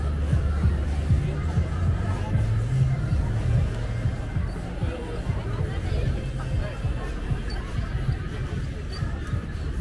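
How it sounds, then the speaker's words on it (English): A big crowd fills a downtown Toronto street at night during Nuit Blanche, a steady, dense babble of many voices and footsteps surrounding the listener for the whole stretch. "there's a big crowd of people"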